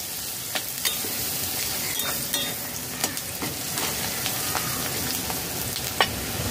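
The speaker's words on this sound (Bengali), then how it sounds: "কাঁচা লঙ্কা পেঁয়াজ ভালো করে নাড়াচাড়া করে ভেজে নিতে হবে।" Chopped green chillies and onion frying in oil, a loud continuous sizzle broken by scraping stirring strokes at an uneven pace, close up with no talking.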